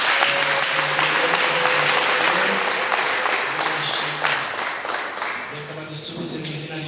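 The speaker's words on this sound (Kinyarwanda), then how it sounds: "Nabo dukomere Imana yacu amashyi." Church congregation applauding during a worship service, dense sustained clapping filling the whole stretch, loud and close, with a leader's voice and some singing underneath.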